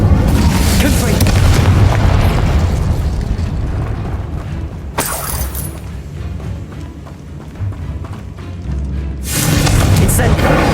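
A Confringo spell explosion in Hogwarts Legacy booms loud and full, with a sharp blast midway and another heavy burst near the end, under a continuous rumble of game effects and some speech.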